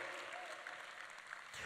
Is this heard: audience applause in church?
yes